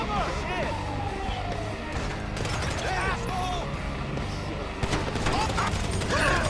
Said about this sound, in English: I'm just standing here and I'm getting shot at.